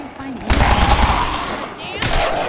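Incendiary grease gun fired in Fallout 4: two bursts of rapid automatic gunfire, the first about a second and a half long and the second starting near the end, loud and close with booming low end.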